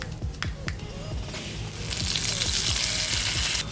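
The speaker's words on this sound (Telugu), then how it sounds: "ఇప్పుడు ఈ పోపుని చట్నీలోకి వేసేసుకుందాం" Loud crackling sizzle of hot oil tempering poured into coconut chutney, bursting up and then holding steady, with a few soft squishy clinks early on.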